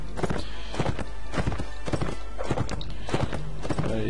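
Horse hooves clip-clop steadily in the video game Mount&Blade Warband, a brisk regular galloping rhythm close and clear over a low constant rumble, with a faint whinny-like tone near the end.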